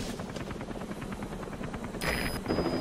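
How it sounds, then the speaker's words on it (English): Helicopter arriving at a landing zone in Metal Gear Solid 5: The Phantom Pain, a steady rhythmic rotor chop with game effects, growing louder near the end as the aircraft approaches. "That's our helicopter."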